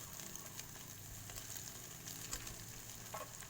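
Fried rice being stir-fried with egg in a hot pan: a constant close sizzle and hiss with faint scraping of the spatula, no voices.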